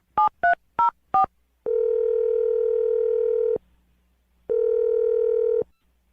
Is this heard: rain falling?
no